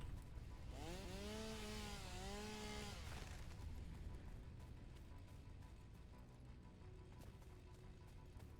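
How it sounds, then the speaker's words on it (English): A chainsaw in the video game Satisfactory, cutting trees, revs up in rising and falling whines for about two seconds, then settles into a steady buzzing drone close by. "you at home should not be running with a chainsaw"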